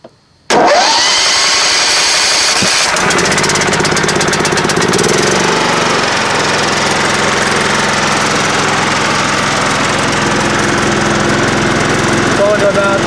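A John Deere L110 lawn tractor engine cranks and catches after a brief silence, then settles into a loud, steady running drone close by.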